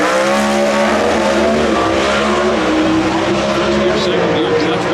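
NHRA Pro Stock drag cars race at Chicago's Route 66 Raceway at over 200 mph, with a loud, sustained engine roar and a steady pitch, and a commentator's voice mixed underneath.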